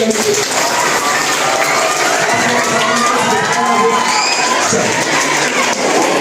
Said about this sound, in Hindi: इनके लिए जरा सा जोरदार ताली